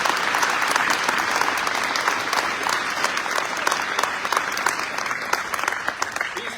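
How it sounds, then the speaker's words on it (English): An audience at a wellness center grand opening claps for the staff, a dense, steady applause throughout with no individual voices standing out. "But let's give them a round of applause"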